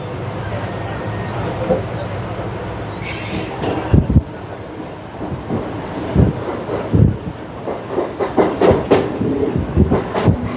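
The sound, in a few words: Mumbai fast local train running, Kalyan to CSMT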